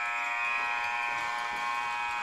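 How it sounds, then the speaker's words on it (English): A sustained electronic buzzer at the end of a period in a female Atom AA ice hockey final, a steady harmonic-rich tone holding loud and unbroken throughout, with no talk over it. "The Force try to get one more rush in before this buzzer sounds."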